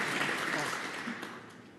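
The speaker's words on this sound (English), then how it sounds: "Generous round of applause" Generous applause from the crowd at a snooker match, the World Grand Prix semi-final, a steady wash of clapping that holds at even strength for about two seconds before easing slightly.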